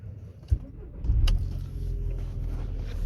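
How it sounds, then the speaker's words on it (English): A 2003 VW Beetle convertible with a 1.6 engine starts up, with a brief click, a short cranking burst and then a steady low engine rumble settling in, heard close by. "Just starting it up."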